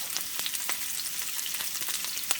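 Shredded cabbage frying in hot grease, a soft continuous sizzle with frequent small crackles and pops scattered irregularly, quiet and close, no talking.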